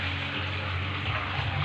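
Shower water runs steadily in a bathroom, a continuous broadband hiss with low hum beneath, loud and close, with no talk over it.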